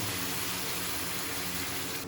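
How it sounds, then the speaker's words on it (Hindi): Water is poured steadily into mutton namkeen gosht cooking in a karahi, a continuous soft gushing splash heard close and alone. "अब मैं इसमें ऐड करूँगा 3 गिलास पानी।"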